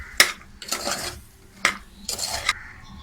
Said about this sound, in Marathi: मीठ घालून चांगली मिक्स करून घेऊया.